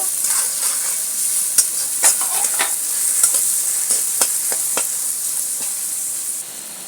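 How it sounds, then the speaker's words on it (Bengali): Onions frying with ginger and garlic in a pan for egg tadka give a steady, close sizzle, punctuated by sharp scraping clicks as a spatula stirs them, continuous from start to end with no voices. "এরপরে দিচ্ছি পেঁয়াজ এইবারে পেঁয়াজটাকে একটু ব্রাউন ব্রাউন করে ভাজবো"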